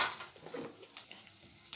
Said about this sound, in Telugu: ఎండుమిర్చి వేసి, జీలకర్ర వేసి, ఆవాలు వేసి కలుపుకోవాలి